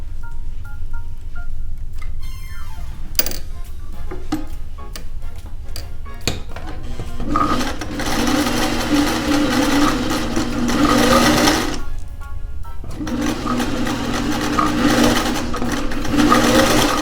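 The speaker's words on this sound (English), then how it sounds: "I'm gonna try and go slow through my sewing machine" Home sewing machine zigzag stitching a thick strap for a 1950s bullet bra, starting with slow uneven clicks and short bursts, then running steadily in loud continuous whirring stretches with a brief pause.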